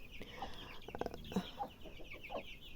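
Young chickens clucking softly at close range, with scattered short clucks and chirps over a quiet background.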